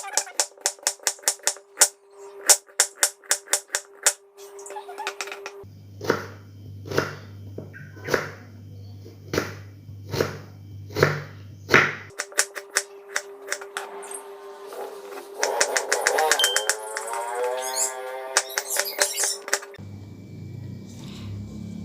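Carrots are chopped on a cutting board in quick runs of sharp, evenly spaced knocks, with a steady tonal background underneath and quieter stretches between the runs.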